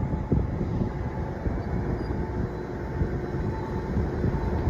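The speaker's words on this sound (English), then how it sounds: "And arriving now is the 1558 Transport for Wales service, terminating here at Cardiff Central from Cardiff Bay." A Transport for Wales train pulling into Cardiff Queen Street station, a steady low rumble and rolling drone that holds throughout at moderate loudness.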